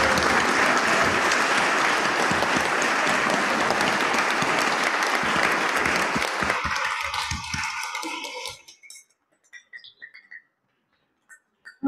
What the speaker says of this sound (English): so let's clap for our confirmands.